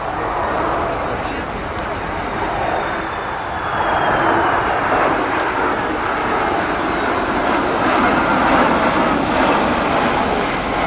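A fixed-wing airplane makes a high-speed pass at the Abbotsford Airshow, a loud steady engine roar that swells slightly midway and holds, with a voice over the public address.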